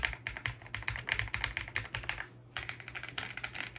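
Close, steady typing on a WOBKEY ZEN 65 wireless 65% mechanical keyboard with Ultra Red switches, a quick run of clacky keystrokes with a brief pause near the middle before the tapping resumes.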